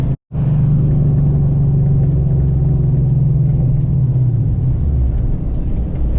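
A drag-style car on ET Street bias-ply tires runs hard on cold pavement, its engine a loud, steady, close rumble holding for several seconds after a brief cut at the start.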